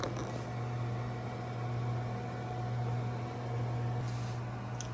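A Nuwave Bravo air fryer toaster smart oven toasting a bagel runs with a steady, even hum and fan whir, constant and close with no change across the clip.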